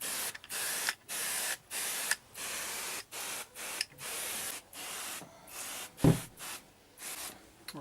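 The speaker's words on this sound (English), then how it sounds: "got my metal prep solution. I'm going to go ahead, just spray it everywhere." Metal prep solution sprayed across the underside floors of a 1973 BMW 2002 during restoration: a long run of close, hissing spray bursts in quick rhythm, each separated by brief pauses, with a sharp knock near the end.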